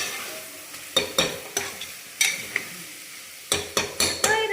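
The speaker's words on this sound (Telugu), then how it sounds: "ఇలాగా ఫ్రై అవ్వాలి అనమాట" Mutton curry frying with masala in a pan, heard as a soft sizzle under repeated sharp scrapes and clinks of a spoon stirring against the metal, close by with no talking.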